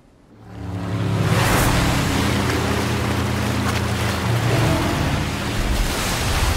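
A motorboat speeds across the water in the Resident Evil 4 video game, its engine roaring up quickly into a loud, steady drone with rushing water and splash noise underneath, heard alone.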